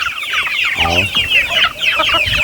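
A flock of hungry chickens clucks and squawks at feeding time on a farm, a dense, loud, close chorus of overlapping calls with one clear longer cluck standing out.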